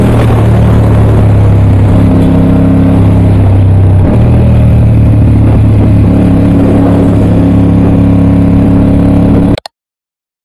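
A 2022 Kawasaki Ninja 400 ABS motorcycle engine runs loud and close with a droning hum, its pitch shifting as it revs up and down, before cutting off abruptly near the end.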